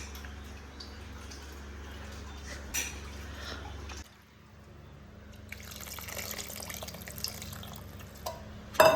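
Water poured from a vessel into a pan of kathirikai kulambu, a brinjal tamarind gravy, as a steady, soft liquid wash that shifts to a brighter splashing flow midway, close and alone.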